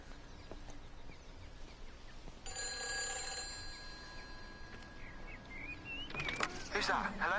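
An old telephone in a creepy video game rings with a bright, repeated electronic trill that starts suddenly and repeats, over a low ambient hum and other faint game sounds.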